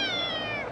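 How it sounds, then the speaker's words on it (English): A house cat lets out a single short, whiny meow, close and clear, with no talk over it. "You have been meowing and meowing and meowing and meowing and meowing all day."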